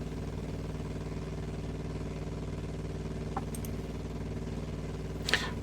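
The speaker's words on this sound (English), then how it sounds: "I think I can turn this engine sound up a little bit here" Steady droning hum of a Piper J-3 Cub engine in a flight simulator, constant and unbroken, with a couple of faint brief clicks near the end.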